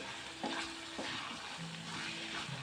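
A pan of radish curry sizzles softly as it is stirred after sesame-peanut powder goes in, with a few scraping strokes against a low frying hiss, close and quiet.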